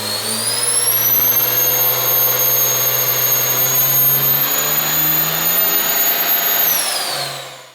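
Turbocharged Dodge Mega Cab diesel truck revving on tune 5, a loud sustained whistling turbo whine that climbs, holds for several seconds, then drops off as the engine eases back.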